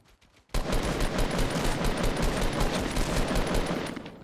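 Sustained automatic gunfire in a Fortnite Battle Royale match, a loud continuous burst of rapid shots that starts abruptly after a brief quiet moment and rattles on without pause.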